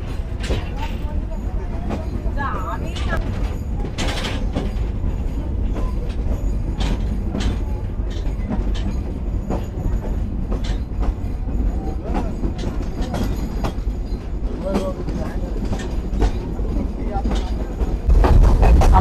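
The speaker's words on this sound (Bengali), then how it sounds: "বিকেল 4টা বাজে আন্তনগর কপোতাক্ষ এক্সপ্রেস ছেড়ে গেল পাকশি রেলওয়ে স্টেশন থেকে" Kapotaksha Express intercity train pulling out of Paksey railway station in Bangladesh: a steady, loud rolling rumble of carriages with scattered clanks and knocks, growing heavier near the end, with voices faintly underneath.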